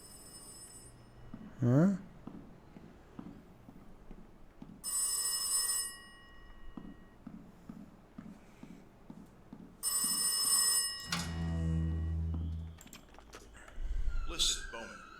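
Telephone bell ringing in the horror video game Rise of Insanity, repeated short bursts of ringing separated by pauses, with a brief voice and other game sounds in between.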